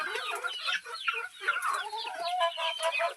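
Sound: chickens clucking

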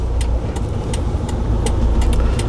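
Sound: 2.5-ton manual truck driving after shifting into gear

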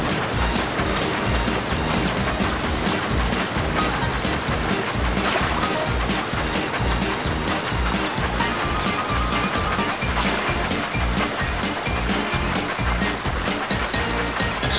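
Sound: water slide splashing in video game

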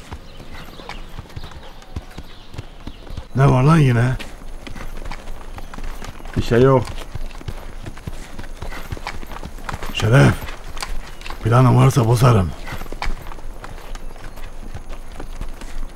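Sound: donkey hooves clip-clopping while being ridden

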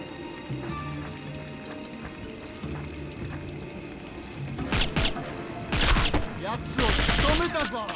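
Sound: gunfire in James Bond 007 Nightfire video game

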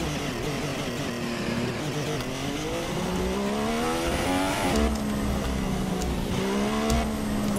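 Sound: F1 car accelerating in the video game F1 2016

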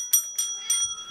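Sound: bell dinged by cats

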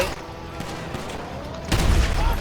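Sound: explosive ammunition gunfire in video game GTA V

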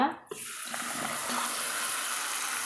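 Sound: water pouring into cooking pot

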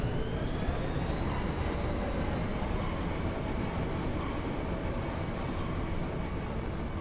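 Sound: train departing, from the video game Final Fantasy VIII

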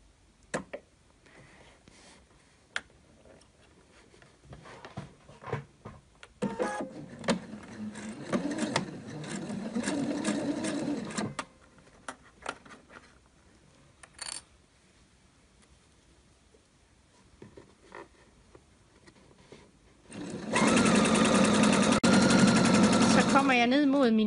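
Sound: sewing machine stitching a zipper on a dress

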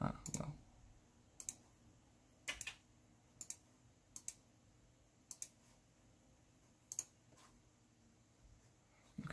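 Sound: computer mouse clicking

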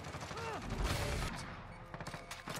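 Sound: gunfire in video game Modern Warfare

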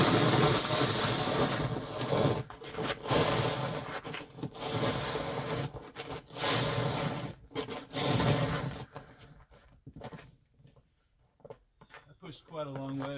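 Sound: snow pusher scraping snow

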